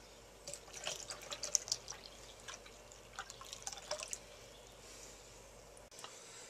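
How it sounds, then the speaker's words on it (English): Two cups of cold milk poured into a 3-ounce packet of instant chocolate pudding mix, giving a soft, faint, steady liquid trickle with small splashy drips and no talking. "Then add 2 cups cold milk."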